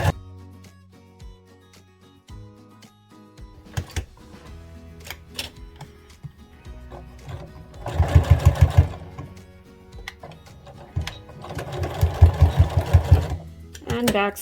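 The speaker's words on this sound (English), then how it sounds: "sew up across the top, the edge of the band, and then turn and go down the other side." Sewing machine stitching a band onto the edge of bear overalls, running in two loud bursts of rapid, steady needle chatter with quieter handling between, a voice talking over parts of it.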